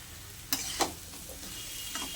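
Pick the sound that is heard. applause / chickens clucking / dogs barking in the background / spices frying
spices frying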